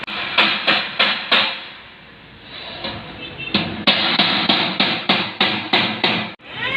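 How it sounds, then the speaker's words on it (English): Construction hammering outside a school in Songjiang, China: a series of sharp, loud, evenly spaced blows, a short pause, then another quick run of strikes. "We got some construction."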